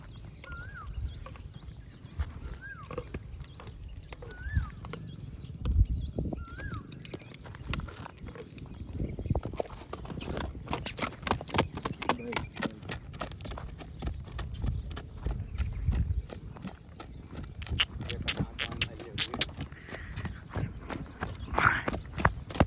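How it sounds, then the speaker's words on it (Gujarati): A running horse clip-clops in a steady, rapid rhythm of hoofbeats that grows denser and closer through the second half, with occasional outdoor voices and background noise. "હાલો તો દોડાવો ઘોડાને"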